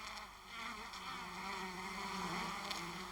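Honey bees buzzing in the dim interior of a hive, a colony of tens of thousands of mostly worker bees; a steady, close, layered drone with no voices.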